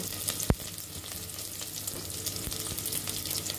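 Turmeric, chilli and coriander powder with green chillies frying in oil: a steady close crackling sizzle with a sharp knock near the start and a few faint stirring scrapes, no talk.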